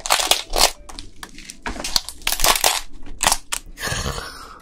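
Raw red snow crab being bitten and crunched up close, a series of sharp, loud crushing crunches in an uneven rhythm with short pauses between bites and no talking.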